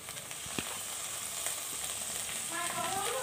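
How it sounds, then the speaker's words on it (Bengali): Onions fried until red, with finely chopped garlic added, crackle and sizzle softly in a pan, with occasional stirring clinks and a brighter burst of frying near the end, no voices. "পেঁয়াজটা লাল করে ভাজা হয়ে গেছে, এবার এখানে আমি দিয়ে দিচ্ছি 7-8 কোয়া রসুন"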